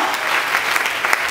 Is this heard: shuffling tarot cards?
no